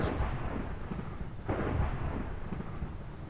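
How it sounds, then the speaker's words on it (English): Thunder in the Minecraft MineZ survival game rolls as a continuous low rumble, with a fresh swell about halfway through, heard alone without talk. "Is that thunder in game or is that freaking giants? I think it's thunder."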